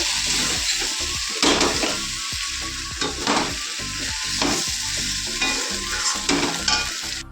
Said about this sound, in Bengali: এদিকে দেখো চিকেনটা বসিয়েছি রান্না রান্না কষানো হয়েই গেছে